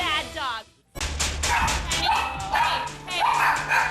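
Several chihuahuas barking and yapping as they fight, shrill rapid barks and whines after a brief pause, close and loud, with a person's voice mixed in among them.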